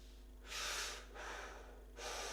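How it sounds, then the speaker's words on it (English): Someone bent slightly forward during a breathing exercise takes strong, airy inhalations through the nose and mouth, two long breaths and the start of a third, close and clear with no talk. "To get a stronger effect, you can slightly bend forward and repeat the breathing in."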